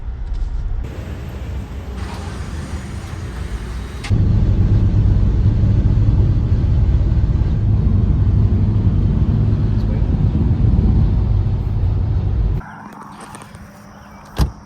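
A car drives along a road in the Tennessee or Georgia area, a steady engine drone and low road rumble that grows louder midway, then drops off near the end.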